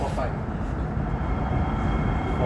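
An SMRT metro train, a Kawasaki or CRRC Qingdao Sifang KS-series set, rumbles continuously and loudly at a station as it slows and then pulls away, with a broad steady roar and no break.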